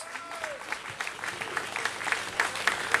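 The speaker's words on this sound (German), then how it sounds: "Einen tollen Applaus für das Urgestein vom Betze" An audience applauds at a stage event in Germany, a steady patter of clapping from a crowd that builds slightly over a few seconds.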